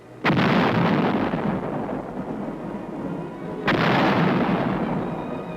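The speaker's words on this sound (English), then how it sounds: "155 howitzers fire a sharp warning at the advancing Chinese" Two heavy booms from 155 mm howitzers firing in the Korean War in 1951, each a sharp blast followed by a long rumbling decay, the second coming about three seconds after the first.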